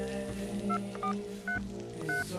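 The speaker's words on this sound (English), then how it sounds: "I picked up my pocket phone and called her to see if she would answer." Mobile pocket phone dialing a call, four distinct keypad tones beeping at uneven intervals over a low background hum and music.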